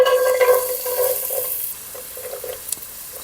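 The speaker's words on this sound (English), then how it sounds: "Now we're gonna add in our sofrito." Sofrito vegetables frying in olive oil in a pan for a Sicilian meat ragu, a steady close sizzle with light stirring, loudest early and easing after the first couple of seconds.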